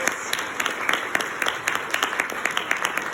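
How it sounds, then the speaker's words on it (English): Audience applause after student group presentations for Project PAKARAMIS, a lively burst of many people clapping close by, with uneven sharp claps throughout the brief stretch and no talking. "Could we just have one more round of applause for all of them?"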